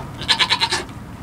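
A goat in a birthing stall bleats once, a close, wavering bleat made of about five quick pulses lasting under a second.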